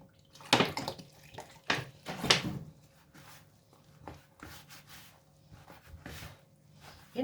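Intermittent splashing and pouring water into white bread dough with small clatters, close by, in short bursts across the clip.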